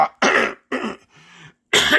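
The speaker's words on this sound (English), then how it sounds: "I'll explain the reason for that cough in a moment." Three sharp, harsh coughs in quick succession, close and loud, with a short throat-clearing rasp between the second and third.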